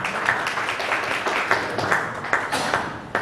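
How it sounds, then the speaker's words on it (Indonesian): Applause from attendees at a district education office meeting for private junior high schools in Mojokerto, a steady wash of clapping with a few sharper individual claps standing out. "Tepuk tangan untuk kita semuanya"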